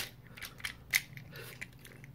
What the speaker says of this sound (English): shoulders can rotate all the way around on a soft ratchet